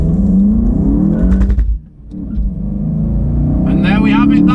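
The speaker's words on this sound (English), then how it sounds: "the way this car accelerates is absolutely incredible" A Volkswagen Golf GTI MK7 accelerates hard and loses grip. The engine note is loud and close, revving strongly, then dips briefly before climbing again under a rising, gritty roar.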